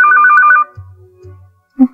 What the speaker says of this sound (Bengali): সে কখন থেকে ফোন পাচ্ছে